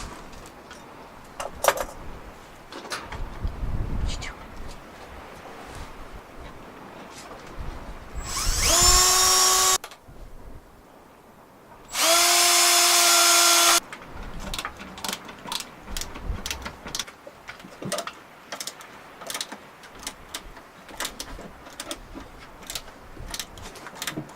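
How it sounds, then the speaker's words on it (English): An electric drill whines loudly into wood in two bursts of several seconds each, with a brief pause between, amid scattered clicks and handling knocks, while building a compost toilet. "Then I'll drill that and attach it to the board."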